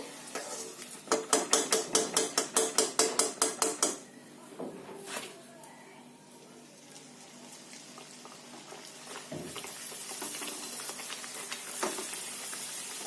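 Bedmi poori frying in a hot kadai: a rapid run of rhythmic scraping clatters at first, then a faint, steady sizzle with occasional soft clinks of utensils.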